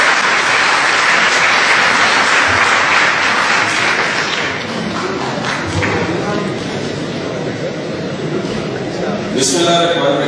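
Audience applause at a motivational lecture in Urdu, a steady, dense wash of many hands clapping that fills the room for about nine seconds before a voice begins to speak near the end.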